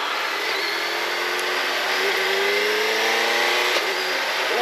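A Suzuki Hayabusa sport motorcycle engine drones loud and close, pitch climbing through gears with brief quick-shift dips, under steady wind rush.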